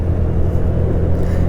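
A 2022 Honda Navi motorcycle rides at full throttle, its small engine giving a steady, loud, close-up drone with low rumble and no letup.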